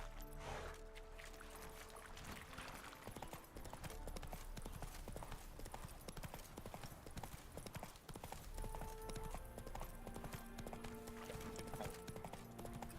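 Roach the horse trotting in The Witcher 3, a continuous rhythmic clip-clop of hooves throughout, with game ambience and music underneath.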